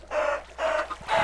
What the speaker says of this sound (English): Hey, there's a chicken.